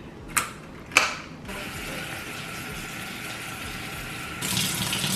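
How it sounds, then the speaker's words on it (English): Raspberries are rinsed in a bowl under a kitchen tap: two sharp clicks as the faucet is worked, then a steady stream of running water that grows fuller near the end, heard close with no talking. "today I'm gonna wash the raspberries."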